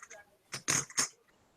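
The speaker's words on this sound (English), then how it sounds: "That is the sound of Canadian silver." Canadian silver coins clink at a pouring bench, giving a few short bright metallic taps close by and a cluster of quick clinks in the middle, all faint in a quiet room.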